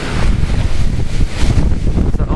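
Strong wind buffets a night campsite on a cycling trip, roaring in gusts straight into the microphone with heavy, rumbling low-end turbulence and no voices.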